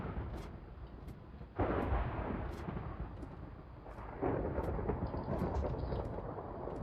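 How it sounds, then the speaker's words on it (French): Thunder rolls through a storm in Minecraft, heard deep underground. There are two low, muffled rumbling swells over faint steady rain, with no speech. "l'orage il éclaire même en profondeur"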